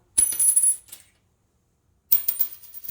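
A silver Washington quarter drops onto a hard surface twice, each fall ringing with a bright, high-pitched shimmer that fades over about a second, close up with silence between.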